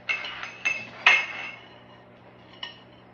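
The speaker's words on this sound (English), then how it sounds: "now I'm going to use a spoon to kind of stir those pecans around a little bit" A metal spoon knocks against a bowl while stirring pecans, making several bright clinks close by, irregularly spaced and then fading out, with no voices.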